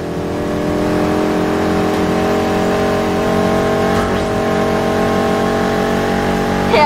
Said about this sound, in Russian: Обожаю звук этого движка.